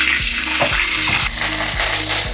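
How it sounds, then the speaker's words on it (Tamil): Onion frying in sesame oil in a pan, with a steady bright sizzle and repeated clattering, ratchet-like stirring strokes from a spoon against the pan, close and loud, no voices. "கொஞ்சமாக இந்த வெங்காயத்தை வந்து போட்டு நல்லெண்ணெய் ஊற்றி வதக்கிக்கலாம்."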